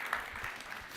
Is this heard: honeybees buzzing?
no